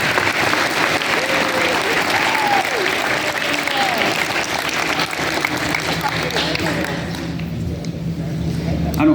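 Audience applause at a high school athlete's signing ceremony, a loud sustained burst of clapping from a crowd, with faint voices mixed in as it thins out near the end.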